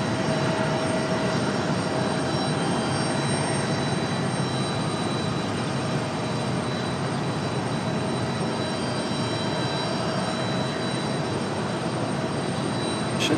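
A Frontier jet airliner departs Raleigh-Durham International, its engines a steady, broad roar holding at one level throughout, with no talk over it.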